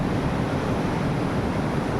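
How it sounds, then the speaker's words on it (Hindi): Ocean waves wash steadily against the Arabian Sea coast, a continuous loud surf roar with wind buffeting the microphone and no voices over it. "ये लहरें आ रही है, टकरा रही है, जा रही है"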